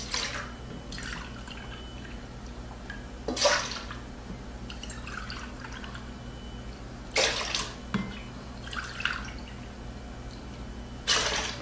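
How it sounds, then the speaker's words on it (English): Four cups of soy sauce poured into a pan, heard as several short splashing, trickling bursts separated by quieter gaps, close by and with no voices. "I put 4 cups of soy sauce into my pan here."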